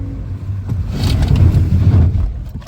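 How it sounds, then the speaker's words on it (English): A 2010 Nissan Altima brakes hard on a test drive as its ABS engages, giving a loud close rumble and scraping road noise that swells and then fades. "We'll lock up the ABS first."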